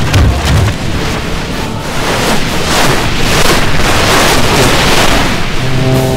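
A volley of gunfire rolls across a Medieval II: Total War battlefield as a loud, dense series of overlapping booms and rumbles that continues for several seconds with no voices.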